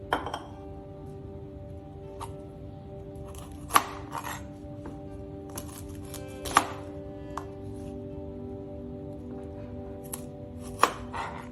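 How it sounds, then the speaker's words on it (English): A knife chops washed Brussels sprouts on a cutting board in quiet, irregular strikes, with a few louder, sharper chops spaced several seconds apart over a faint steady background hum. "Next, we are going to clear our workspace to chop the washed Brussels sprouts."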